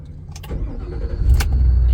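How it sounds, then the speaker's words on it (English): A 2022 Ford F-250 XL crew cab pickup turns over with the key, a rising low rumble swelling into a steady, close idle after a brief crank. "So we're gonna go and start this baby up. Stick the key in there."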